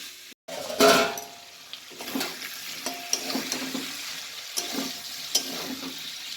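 Cauliflower sizzles in a pan and is stirred with a few scrapes and light clanks of the utensil against the pan, close by over a steady frying hiss.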